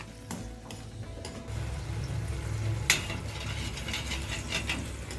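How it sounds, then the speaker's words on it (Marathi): Spice masala frying in oil for shahi paneer, a steady soft sizzle with occasional scrapes and clinks of a spoon against the pan, close and fairly loud. "थोडीशी फ्राय करायची तेल तर आहे त्याला सुटलेला तेल सुटेपर्यंत थोडं फ्राय करायचं"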